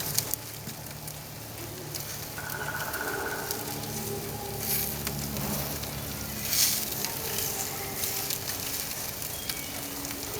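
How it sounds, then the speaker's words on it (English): Steady sizzling of steak frying in a hot pan, a dense crackling hiss running throughout with occasional louder pops, close and fairly loud. "I love that sizzle."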